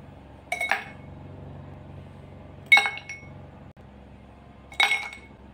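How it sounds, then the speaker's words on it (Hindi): Ice cubes dropped into a glass while making mint lemonade, landing in three separate bright clinks spaced about two seconds apart, close and clear over a quiet background. "ग्लास में सबसे पहले आइस क्यूब्स डालेंगे।"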